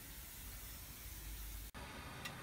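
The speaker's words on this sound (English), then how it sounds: "I'm just going to get started spraying her down with oil" Oil sprays steadily inside an offset smoker during a restoration, a close, even hiss that cuts off briefly for a moment and then resumes.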